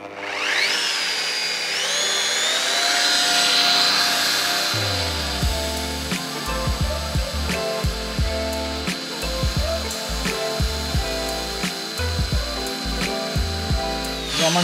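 A polishing machine with a 75 mm pad works over glass, a steady high whine running throughout while rapid clicking, rattling bursts from the pad jerking sideways pulse under it, close and fairly loud.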